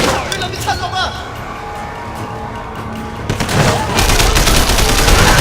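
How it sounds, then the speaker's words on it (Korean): Gunfire in the video game Sleeping Dogs, with a burst of shots early on and then dense, loud continuous firing toward the end, under a speaking voice. "좋았어 헤드샷"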